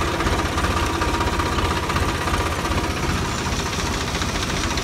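A tractor engine idles close by with a steady, loud, low rhythmic chug and constant vibration throughout, with no talk.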